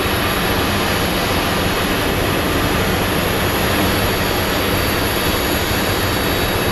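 A jet airliner from El Paso at Phoenix Sky Harbor, heard as a loud, steady, broadband engine roar with a constant high whine, unbroken throughout.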